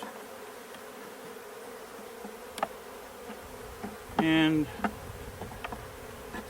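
Honeybees hum and buzz steadily around an open hive as frames from a five-frame nuc are moved into a new eight-frame hive, with a single close bee buzzing loudly past midway and a brief spoken word.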